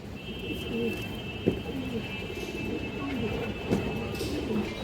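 A pair of Bagha pigeons, a male and a female, coo softly in repeated low calls over a steady background hum, with a faint high whine running through and no clear talk.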